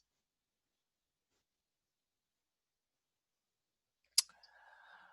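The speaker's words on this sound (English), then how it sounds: "Go ahead and click search." A single sharp computer mouse click on a search button comes after near silence, followed by a faint low hum.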